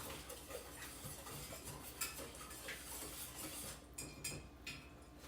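A utensil stirs granny cake frosting cooking in a pot in a Southern home kitchen, giving quiet, close clinks and scrapes against the pot at an irregular pace, with no talking.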